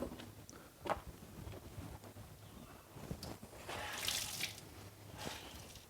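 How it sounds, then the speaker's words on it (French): Tap water runs from a kitchen faucet onto a cloth used for a couscous steamer, giving faint, uneven splashing and trickling bursts with soft handling noises. "Je mouille tout simplement voilà, avec de l'eau du robinet comme ça."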